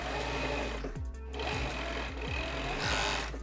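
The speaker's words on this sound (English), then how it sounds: "then we just sew everything together" A sewing machine stitches basketball jersey sleeves in a continuous loud whir, with brief pauses and restarts as the fabric is guided through.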